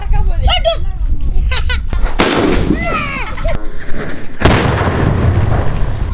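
A Valangaiman nattu vedi country firecracker goes off in a series of sharp, loud bursts that leave a lingering rumbling roar, following a stretch of outdoor chatter.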